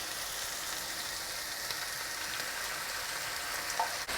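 Onion and tomato sauce with passata simmers and sizzles in a pan, a steady soft hiss and bubbling close by, even throughout with a faint clink near the end.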